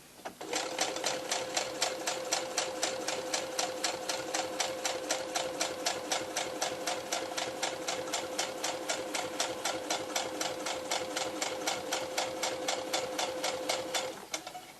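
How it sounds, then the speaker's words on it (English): A sewing machine runs a quarter-inch seam down a baby blanket, its needle chattering in a fast, perfectly even rhythm for about fourteen seconds at moderate volume before stopping. "I'm just going to sew a 1/4 inch"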